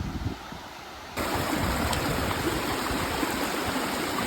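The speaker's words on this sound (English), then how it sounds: "You can see the big pool back there, and then the water pouring through" River water pours through a beaver dam on a stream crossing, a steady loud rushing roar that starts abruptly after a quieter moment and continues close and unbroken.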